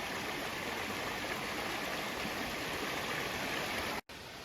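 River water flowing steadily at a flint-knapping site, a dense, continuous rushing wash heard close by that breaks off for an instant near the end.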